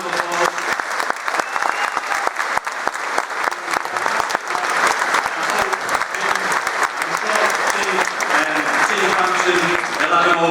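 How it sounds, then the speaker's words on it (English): Loud, sustained applause from the audience at a boxing press conference in Belfast, a dense continuous clatter of many hands lasting several seconds, with a voice speaking faintly beneath the clapping. "round of applause"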